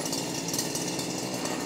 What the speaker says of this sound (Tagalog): Grass cutter na 2-stroke.